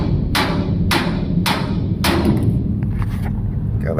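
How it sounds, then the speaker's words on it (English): A hammer drives a steel wedge during welding fit-up work, striking four sharp, loud metallic blows at an even, steady rhythm close by, with a faint ringing afterward. "Drive the wedge in."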